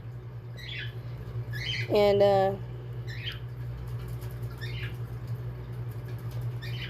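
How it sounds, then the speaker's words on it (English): Short chirpy bird calls repeat every second or so in the background, with a brief voiced sound and a constant low hum. "Excuse the birds in the background. They make noise at all times throughout the day."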